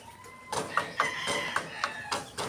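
Sweater Gilmore chickens kept for breeding give a run of short, clucking calls and a strained crow-like note, repeating every half second or so at moderate closeness over light background noise.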